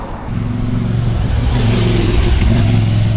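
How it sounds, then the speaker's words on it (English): A CF MT450 motorbike engine revs steadily on a city street in Nanjing, its loud, rough low-pitched drone rising slightly and holding for a few seconds close by. "that's my bike, the CF MT450"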